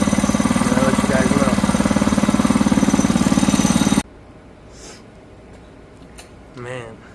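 Oryxearth 105cc mini bike engine running close by, a loud steady idle with a fast even chugging pulse for about four seconds before cutting off, then quiet background with faint bits of a voice.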